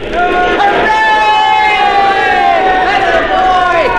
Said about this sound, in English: What's all the cheering about? They're cheering us.